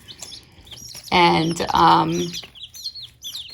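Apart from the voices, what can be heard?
Barred Rock and Cochin chicks chirping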